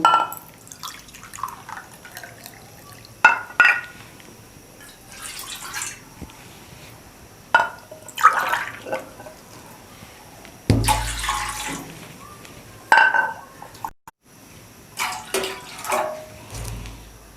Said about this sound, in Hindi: तीन कप हम डालेंगे पानी।